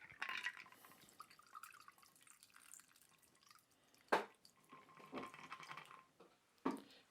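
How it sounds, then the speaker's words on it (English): Lady Marmalade cocktail, made with orange peel and marmalade, double-strained into a coupe glass: a soft thin trickle of liquid broken by a few sharper splashes and drips, close and quiet with no voices. "we're going to do a double strain on this."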